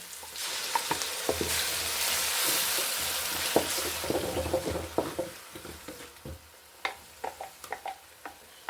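A ground paste of coriander leaves, ginger, garlic and green chili fries in hot oil for palak rice, hissing loudly at first. The sizzle then settles into softer bubbling broken by sharp pops and spatters, close up and with no talk.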